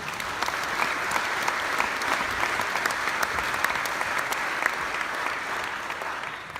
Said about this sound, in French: un tonnerre d'applaudissements pour Michel Salançon